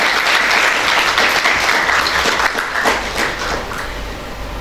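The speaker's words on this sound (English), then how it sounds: "I think that deserves a huge round of applause." An audience at a school award ceremony breaks into a huge round of applause, thick and loud at first, then thinning and tapering off over a few seconds.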